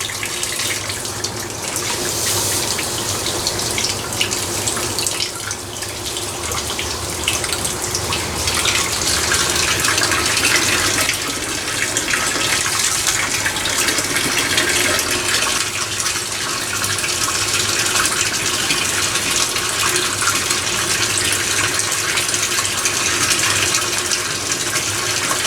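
Water runs continuously from a hose or tap in a garden while something is rinsed, a loud, steady rushing flow with slight splashing changes throughout and no talk.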